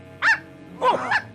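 Dog in a French Oui-Oui cartoon, voiced by a person: two or three short barks with a slight whine, close and clear, separated by brief gaps.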